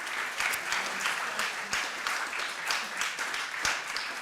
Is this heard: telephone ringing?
no